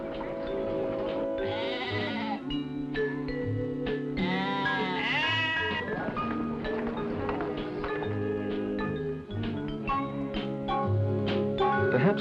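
A flock of sheep bleats repeatedly from several directions in New Zealand farm country, overlapping calls of varied pitch at moderate distance over a steady background.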